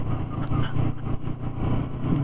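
The engine of a V3 motorcycle hums and throbs unevenly as it rides off-road on a dusty track at Mirzapur's Aqua jungle park, moderately loud with slight rises and dips.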